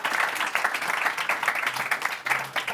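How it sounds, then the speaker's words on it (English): A conference audience claps for a panel at an AI healthcare event in Davos, a steady, moderately loud burst of applause that lasts the whole moment. "First, let's give a nice round of applause to our group here"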